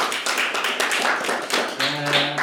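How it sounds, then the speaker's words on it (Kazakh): A school audience claps for People's Artist Alikhan Idrysheva in a dense, brief burst of applause. A faint tonal sound rises under the clapping near the end. "Шапалақтап қояйық."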